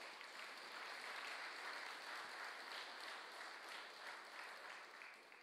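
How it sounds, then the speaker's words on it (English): Audience applause at a lecture in the CMU Port Royal Lecture Series, honoring a Lifetime Achievement Award for Sustainable Tourism; dense, steady clapping from many hands fills the room evenly with no break and no voices. "Let's give him a round of applause."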